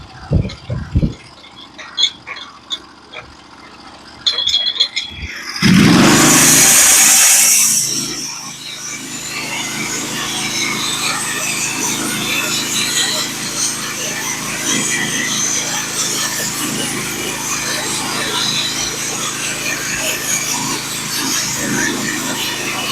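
A Norwood HD36v2 sawmill cuts pitch pine, with a loud broadband burst of blade noise partway through, then a steady lower hum of the running mill and engine continuing; sporadic knocks and clatter come before the cut.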